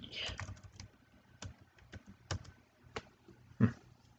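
Typing on a computer keyboard during CAD work: scattered, separate key clicks at an uneven pace, close and quiet, with a slightly louder cluster of taps near the end.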